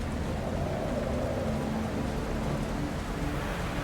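Steady rain in The Alters video game, a dense, even hiss of falling water with a low rumbling undertone, constant and close throughout with no voices.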